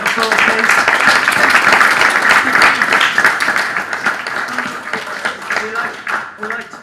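Applause for an event organiser at a Cheltenham Festival preview evening, sustained and fairly loud, slowly tapering as scattered voices and shouts mix into the clapping.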